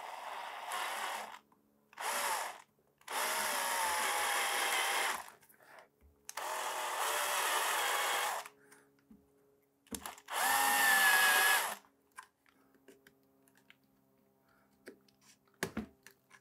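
A power drill whines in four loud bursts, grinding off cast screw heads on a metal Ghostbusters proton pack prop, with short quiet gaps and faint clicks between runs, recorded close up.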